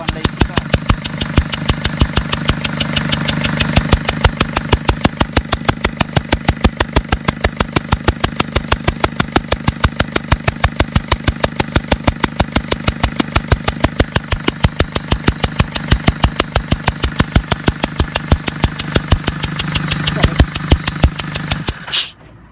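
A Mercedes Sprinter 311 CDI diesel idles loudly nearby with a rapid, even ticking knock from a leaking rear injector, running steadily before cutting off at the end.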